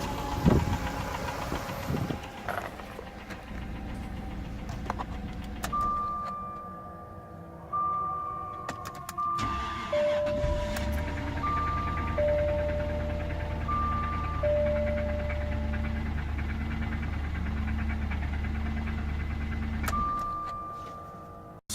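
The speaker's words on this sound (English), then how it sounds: "So what you just saw there is a knocking engine." A car engine runs continuously with a rough, rhythmic knocking, accompanied by steady tonal whines, fairly close and loud, with no talking.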